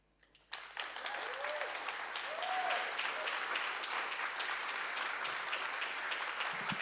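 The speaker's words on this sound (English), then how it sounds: "Round of applause for Shaq." An audience at a live poetry jam breaks into sustained applause after a performer finishes, a dense clatter of many hands, with a couple of rising cheers or whoops early on.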